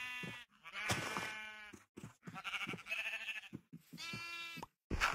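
Sheep in the Minecraft video game bleat repeatedly, several short wavering calls in a row with brief pauses between them, loud and close with no talk over them.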